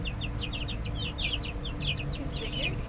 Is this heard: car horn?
no